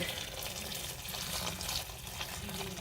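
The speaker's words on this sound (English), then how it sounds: "I'm going to be adding some hot water to cover it" Hot water is poured over tomatoes in a pot. It comes through as a faint, steady gush and hiss with soft splashing, low in level and continuous for a few seconds.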